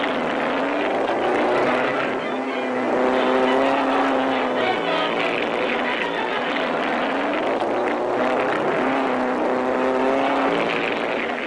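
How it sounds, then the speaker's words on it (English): Engines of big race cars roar and whine continuously as they speed around a saucer track, the pitch sweeping up and down, with a voice talking over them. "More thrills with the big cars as they speed like rockets around the saucer."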